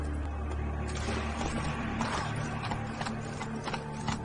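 Hooves of a horse named Roach clip-clop in a steady galloping rhythm under a dense, continuous rumble of background sound, loud and close throughout.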